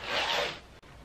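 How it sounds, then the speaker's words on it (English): Archangel Oracle cards being shuffled by hand: a steady, close papery rubbing and riffling that fades slightly toward the end, broken by one brief pause, with no talking. "So I'm going to start shuffling the cards."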